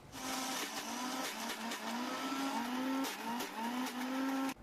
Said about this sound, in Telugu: అలాగే ఒక చిన్న టీ గ్లాసుతో 1/2 గ్లాసు నూనె మరియు ఇంకొక 1/2 టేబుల్ స్పూన్ కల్లుప్పును వేసుకుని మూత పెట్టుకుని గ్రైండ్ చేసుకోవాలి